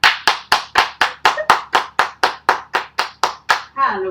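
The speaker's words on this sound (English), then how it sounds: "Everybody, clap your hands." People clap their hands in unison to a song's beat, about a dozen sharp, evenly spaced claps ringing out in a steady rhythm before a voice and music take over at the end.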